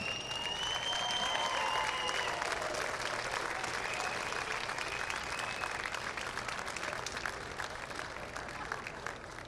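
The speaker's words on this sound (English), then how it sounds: "let's have a nice round of applause for this year's runner-up" A crowd at the 2016 USSSA Major World softball finals awards applauds the runner-up team, Backman, with steady, dense clapping that fades slowly over nearly ten seconds.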